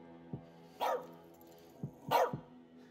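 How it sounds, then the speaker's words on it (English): A dog barks twice in the As Dusk Falls video game. Each is a sharp, fairly close bark over a steady low hum, with short gruff sounds before each bark. "You, keep that dog quiet."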